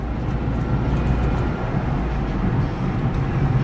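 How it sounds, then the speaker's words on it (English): Steady throaty drone of a 2009 Smart Fortwo Passion coupe's small three-cylinder engine and exhaust during relaxed city driving, an even, continuous hum with road noise and no talking. "And that little 3-cylinder engine has such a throaty note to it."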